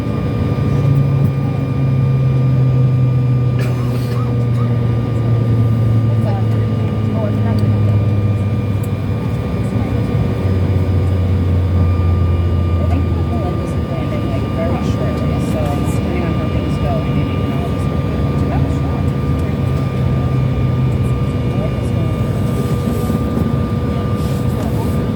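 Steady, loud airliner cabin rumble as the plane taxis toward the gate after landing, a continuous low engine drone and whoosh filling the whole stretch with no clear voices.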